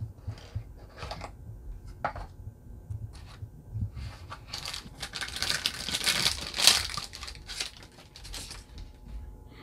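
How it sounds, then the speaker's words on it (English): A plastic bag crinkles and rustles in bursts of close, sharp crackling while an Otto Link saxophone mouthpiece is unboxed, with quieter handling between the louder crumples. "So it comes in this plastic bag here."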